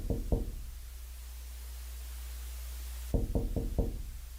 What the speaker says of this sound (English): how the fuck he knocking on the window